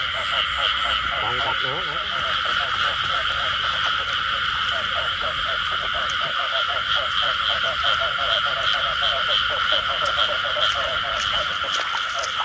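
Frogs croak densely and continuously near an old jackfruit orchard at night, a loud pulsing chorus with people talking in the foreground throughout.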